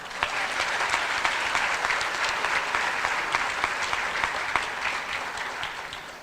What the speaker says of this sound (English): You can give them another round of applause.